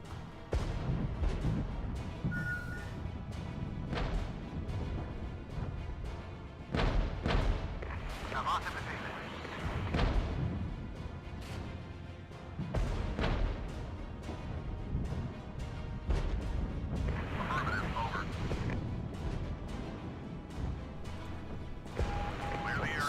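Artillery fire in the war game Regiments, heavy booms and crashing thuds spaced every few seconds, with a voice talking over the battle noise throughout.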